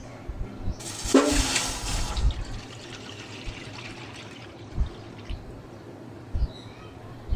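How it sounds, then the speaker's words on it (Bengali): A kilo of milk is poured into a pot on a stove for sabudana payesh, a loud rushing splash lasting about a second and a half, then fading into quiet kitchen noise with a few faint knocks. "এখন এই পাতিলে আমি এক কেজি দুধ দিয়ে দেবো"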